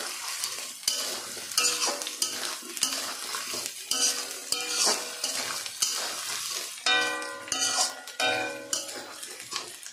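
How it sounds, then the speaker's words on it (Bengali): Food sizzles and fries in a pan as it is stirred, with a steady crackle broken by repeated scraping and clinking of the utensil against the pan, close up and with no talking. "দেখতে পাচ্ছ আমার এটা অনেকটাই ভাজা ভাজা হয়ে যাচ্ছে"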